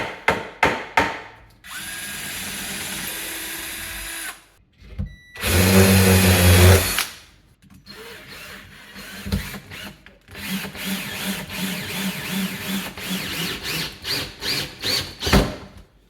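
A power drill whirs in two loud bursts driving screws into kitchen cabinet face frames, surrounded by clicking, ratcheting and handling noises from nearby tools.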